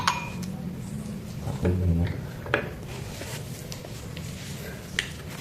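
Glass laboratory beakers, freshly washed after an experiment, clink and tap lightly as they are handled on a bench, a few sharp faint clinks over a quiet room background.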